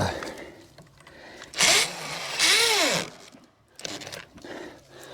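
A weak electric drill labelled XU1 strains while boring into an eaten-out wooden fence post, with two loud whining bursts whose pitch bends up and down, then shorter revving spurts near the microphone.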